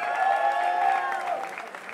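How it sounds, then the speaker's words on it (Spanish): Audience applause for the waitresses and waiters at a stand-up comedy show, a steady burst of clapping from the crowd that fades slightly toward the end, with a faint tonal hum over it. "Aplauso para las meseras y meseros también el día de hoy"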